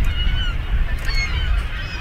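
Geese honk repeatedly nearby on the Columbia River at Lake Wallula in spring, overlapping calls rising and falling over a low background rumble.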